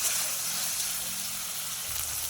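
Salted fish seasoned with salt and turmeric sizzles steadily in a frying pan as it is stirred, a soft continuous hiss with no clear individual strokes.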